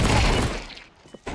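A flashbang grenade goes off in Counter-Strike 2 as a loud, sharp shattering burst that fades quickly, followed by a small thump near the end.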